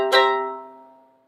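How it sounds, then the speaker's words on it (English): A dominant seventh chord struck once on a keyboard, sounding close and clear, its tones sustaining and slowly fading over about a second. "A dominant seven, we're just taking this note and lowering it a half step, so that'll sound like this."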